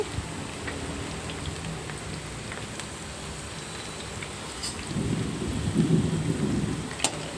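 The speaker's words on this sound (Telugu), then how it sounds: "వర్షం పడుతుందండి ఉరుములు బాగా వస్తున్నాయి" Steady rain hisses throughout, and a deep roll of thunder rumbles up midway before fading, with a few sharp drips close by.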